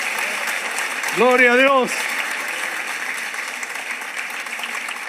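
A church congregation applauds in a steady, wash-like patter while a voice calls out briefly over it near the start; the clapping continues evenly after he stops.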